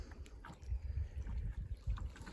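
A canoe paddled across a lake, with soft low water swishes from the strokes and light wind noise, faint and close.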